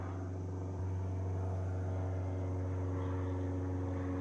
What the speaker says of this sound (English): I hear an airplane.